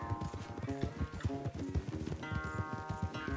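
A horse gallops in the video game Red Dead Redemption 2, with a quick, rhythmic clip-clop of hoofbeats, fairly soft and continuous throughout.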